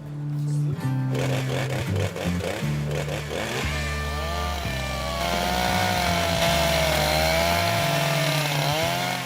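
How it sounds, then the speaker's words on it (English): A chainsaw cuts through ice on a Gold Rush mining site, its engine roaring loud and close for several seconds with the pitch dipping and rising as the blade bites and revs, heard without talk. "You're really gonna treat your poor chainsaw like that? It's ice."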